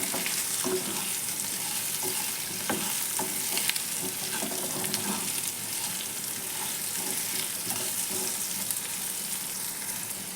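Potato and brinjal curry with salt is stirred and fried in a pan, a soft continuous sizzle with repeated light scraping and tapping, moderately quiet and steady.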